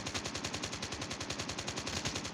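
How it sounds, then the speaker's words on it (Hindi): Rapid automatic gunfire in the Call of Duty video game, a loud, steady stream of evenly spaced shots rattling continuously without break. "ये देख बेमतलब पे गोली चला रहा था"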